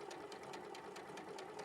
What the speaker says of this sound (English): we're going to sew the other small triangle along the bottom